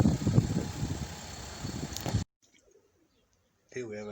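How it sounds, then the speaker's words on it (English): A wood pigeon (ring dove) coos in a palm tree garden, low soft repeated coos under someone talking and steady outdoor hum, before a short silence and a brief burst of other sound. "Here we have a lovely wood pigeon, or what was formerly known as a ring dove, feeding at the palm tree garden."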